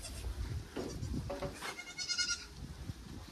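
Goats in a farm barn bleat repeatedly, several overlapping wavering calls close by and loud over background rustling and shuffling, with no talking.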